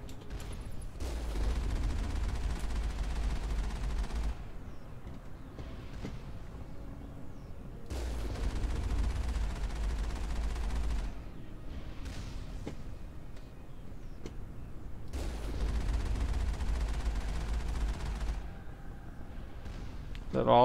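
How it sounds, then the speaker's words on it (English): Cannon fire in the Mass Effect video game, three heavy booming bursts of roughly three seconds each with rumbling low end, spaced several seconds apart over a continuous game background. "There's not nearly as much elevation as there should be on this cannon."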